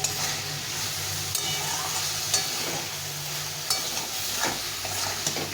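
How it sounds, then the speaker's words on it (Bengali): Soybean chunks sauté in spice masala in a pan, a steady sizzle broken by scraping stirs and occasional clatters of the spoon, close up with no voices. "এটা ভাজতে হবে না, এই মশলা দিয়েই কষিয়ে নিতে হবে ভালো করে।"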